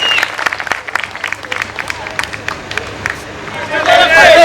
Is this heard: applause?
yes